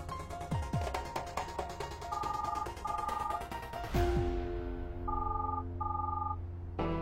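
A telephone rings repeatedly in paired bursts over steady background music, as a call is placed in a French-dubbed episode of the Indian drama series Bepannah.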